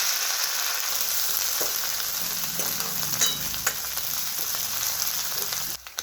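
Ground masala paste frying in hot oil with plenty of curry leaves for kadhi, a dense continuous sizzle with crackling pops and a few soft stirring knocks close by.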